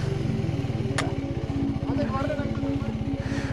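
A motorcycle engine runs with a rapid, steady putter, close by, while people talk over it throughout.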